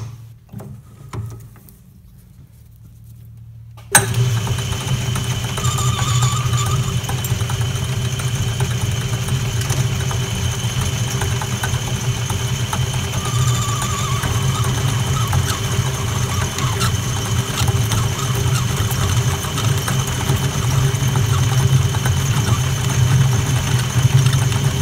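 A lathe turns 316 stainless steel with an unidentified mystery insert, a loud, steady machine drone that kicks in abruptly after a few quiet seconds and holds level to the end.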